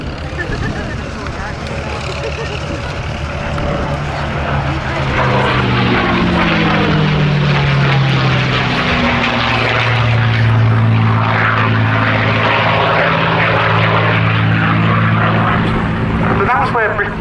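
A North American P-51 Mustang propeller fighter flying at the Cosford Air Show, its loud piston engine roaring throughout with a pitch that swoops downward as it passes, and a voice talking over it.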